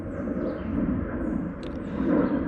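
A jet aircraft passes overhead near Pittsburgh International Airport, a steady broad roaring rumble that swells slightly toward the end, heard alone without talk.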